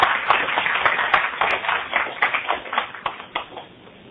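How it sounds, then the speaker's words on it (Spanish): An audience at an evening lecture applauds the speaker, a dense patter of claps that swells briefly and then thins out and fades toward the end. "Vamos a darle un aplauso,"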